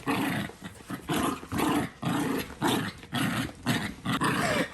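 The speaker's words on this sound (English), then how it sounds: "She sounds like Donald Duck. Oh no. Dog." A dog growls in repeated rough bursts, about a dozen snarling pulses with short gaps, close and fairly loud with no talking.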